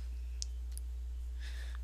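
A few short, sharp computer mouse clicks sound quietly, spaced apart over a steady low hum while playing a computer game.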